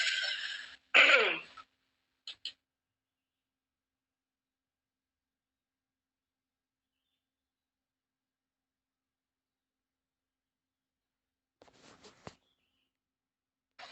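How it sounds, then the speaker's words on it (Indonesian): A person coughs and clears their throat a couple of times up close, followed by long silence and a few faint, scattered small noises. "Aku batuk lagi nih, bentar."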